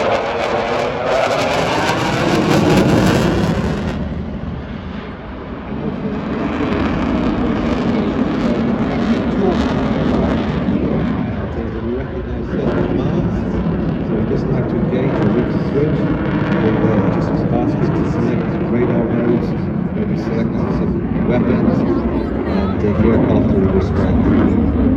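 A military jet at the Ayr air show in Scotland roars steadily overhead as it rolls into knife-edge flight on the way down, a loud continuous engine rumble that runs throughout under a commentator's talk.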